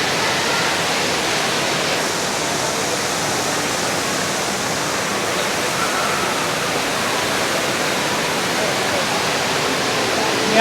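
The Rain Vortex, an indoor waterfall at Jewel in Singapore's Changi Airport, pours with a close, constant, dense roar of falling water that stays even throughout.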